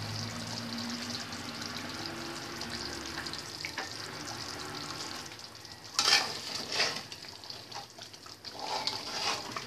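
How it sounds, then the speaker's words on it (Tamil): Restaurant-style Tamil egg curry (egg kulambu) being gently stirred in a pan, a low bubbling simmer, then louder scraping and stirring strokes toward the end, no talking. "முட்டையை உடைச்சிராமல் பார்த்து கிண்டிக்கோங்க."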